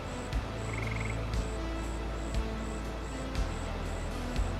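Cicadas from the Farming Simulator 25 game world trill in a steady, repeating pattern, with evenly spaced short chirps layered over a constant low hum and faint periodic thumps, heard without talk.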